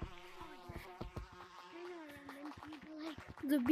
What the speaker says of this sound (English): The bees are mad.